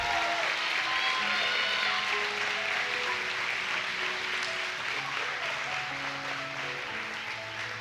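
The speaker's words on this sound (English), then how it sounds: "one more round of applause for all of our contestants and their work here tonight" Crowd at a county fair queen and princess pageant claps for the contestants, a sustained round of applause with musical tones running underneath, steady and fairly full, tapering slightly at the end.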